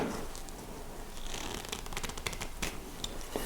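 Knife whittling a fresh-cut branch, less than ten minutes old, while carving a wooden chain: close, dry scraping and peeling strokes with a few sharper slicing clicks, steady and quiet with no talking.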